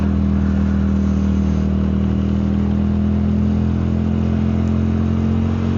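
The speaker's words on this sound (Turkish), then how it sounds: "Yalnız motorun sesi bayağı güzel ya" A motorcycle engine runs steadily and close, with a low, even throb and a faint rise in revs, no talking.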